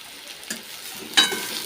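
Chopped potato and pointed gourd fry in a pan, a soft sizzle broken by a couple of brief stirring scrapes, fairly quiet and close.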